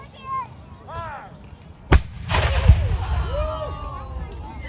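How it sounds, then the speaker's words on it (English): At a Revolutionary War reenactment, a cannon fires one sudden loud boom followed by a long rumbling roar and crowd noise, with children's voices and other chatter heard before and after the blast. "we also fire canisters, grape shots, chain shots, and bar shots"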